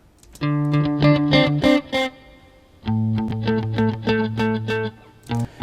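Distorted guitar notes played through a tape delay effect built from stock plugins, phrases repeating and smearing into echoes, loud and close with no voices.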